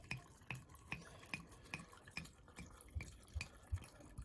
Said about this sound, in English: Now we'll fill this is uh filtered water